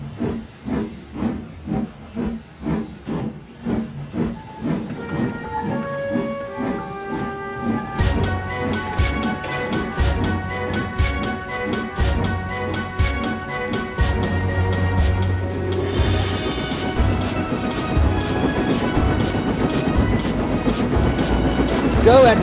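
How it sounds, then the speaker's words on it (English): A steam locomotive in a game hauls heavy goods wagons, chuffing in slow rhythmic puffs that gradually quicken, with hissing steam, clanking wagons and background music. "With one more try, Edward slowly took off with the heavy goods train."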